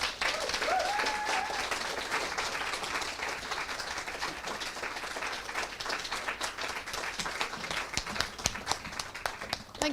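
An audience at a poetry prize livestream applauds the poets, a sustained, moderately distant patter of clapping that thins into sharper individual claps toward the end.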